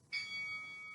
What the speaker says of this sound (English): good to hear that bell